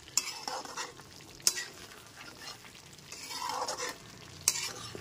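Ghee being stirred into a vegetarian gravy in a pan, with soft scraping strokes over a gentle sizzle and a few sharp utensil clinks against the metal.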